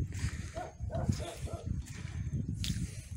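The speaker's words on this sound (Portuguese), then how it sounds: "Ih, tem cachorro aqui, ó, mano." A dog barks several times at a harbour while visiting a yacht in Camocim, Ceará, short yips and bow-wows in a loose rhythm at moderate distance, mixed with outdoor background noise.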